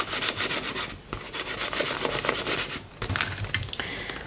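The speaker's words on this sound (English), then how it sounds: "I'm going to gently go in with my scraper" A scraper pressing adhesive vinyl onto an inflated balloon makes close, scratchy rubbing strokes in a steady rhythm, with a couple of short pauses and no voices.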